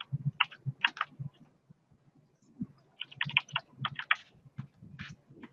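Keystrokes on a computer keyboard while typing a web search, in quick irregular bursts of clicks with a short pause midway, close and fairly quiet, with no talk.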